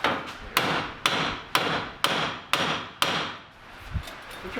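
Six loud, sharp strikes from a Husky hammer ring out at an even pace during a wrecked Cobra rebuild, each blow close by and trailing off before the next, followed by a quieter thump.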